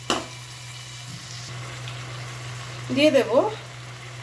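Spice paste with coriander powder fries in a pan for a vegetarian navratan korma, making a soft, steady sizzle under a low hum that continues throughout, with a short spoken phrase near the end.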